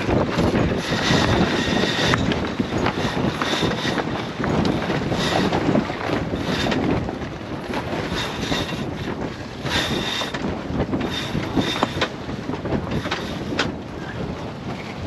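A Beneteau 47 sailboat under sail on a port tack between Marigot and Grand Case, St Martin: steady, loud wind rushing across the microphone with water swishing along the hull, continuous for the whole stretch and no talking.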